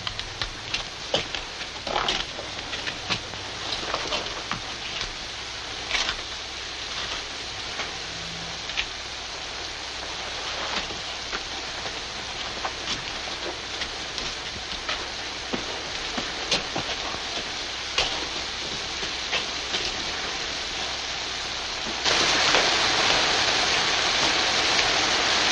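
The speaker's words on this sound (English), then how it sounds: "Now it's started to rain." Steady rain falls continuously on an outdoor surface at a fort under siege, a dense even hiss with scattered drop patters, growing louder and heavier in the final few seconds.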